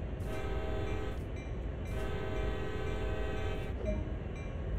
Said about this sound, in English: Sound the horn to let everyone know we're moving.